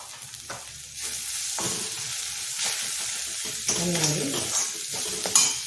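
Masala powder, turmeric and coriander powder are stirred into a hot pan for pav bhaji, giving a close, bursting sizzle with scraping strokes that rises and falls, no voices.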